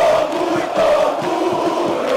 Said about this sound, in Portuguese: Paulo Vinícius Coelho, escuta só esta torcida.